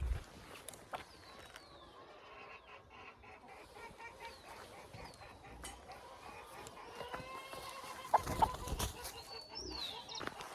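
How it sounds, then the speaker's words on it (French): Small chickens clucking outdoors in a high, misty place in Colombia, soft scattered clucks and chirps against a faint ambient hiss, with a louder burst of clucking toward the end. "Regardez les petites poules."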